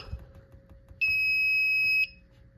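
An older fire alarm system panel's smoke detector alarm sounds a loud, steady electronic tone for about one second, standing alone after faint low rumbling.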